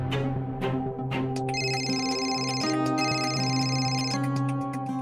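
A mobile phone rings with a steady repeating electronic ringtone melody, close and continuous, the pattern shifting partway through with layered tones.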